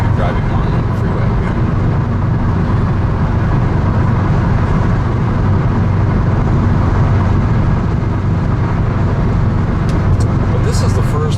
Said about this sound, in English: Nothing more exciting than driving on the freeway.